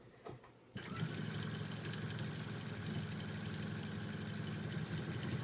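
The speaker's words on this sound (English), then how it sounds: "Let's do a keyhole and see how that works." A sewing machine stitching a keyhole buttonhole starts after a brief pause, then runs with a steady, fast mechanical whir that holds evenly to the end.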